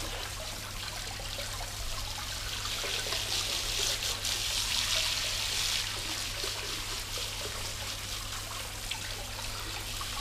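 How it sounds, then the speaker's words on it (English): Water runs steadily to rinse activator off a surface before lacquer is applied, a continuous close hiss and trickle with no pauses and no voices. "what I'm doing now is rinsing off the activator"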